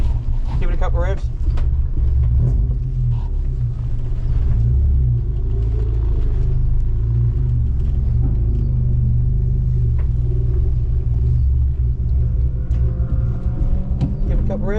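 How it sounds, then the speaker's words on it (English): A Hyundai Excel race car at Mallala Motorsport Park rumbles with a deep, loud engine note, revved in a couple of swells over a steady idle, with voices talking nearby. "Give it a couple of revs."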